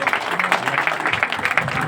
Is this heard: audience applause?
yes